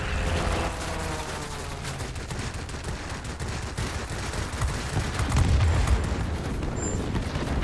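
Sustained dense gunfire from warplanes in an aerial combat game: continuous rapid machine-gun rattle and booms over engine roar, loud and unbroken throughout, with a slightly heavier burst near the end.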